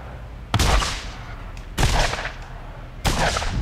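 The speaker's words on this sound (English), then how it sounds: "I wonder if I can shoot those things from here" Three loud, separate gunshots from a weapon in the Borderlands video game crack out about a second apart, each with a short, echoing tail.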